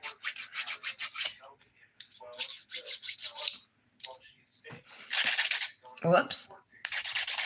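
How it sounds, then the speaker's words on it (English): A nail file rasps across fingernails during a wintery dip-powder manicure, in quick repeated back-and-forth strokes with short pauses, close and clear, with a brief spoken exclamation between bursts. "You don't want to smooth the top of your nail with a 100 grit file."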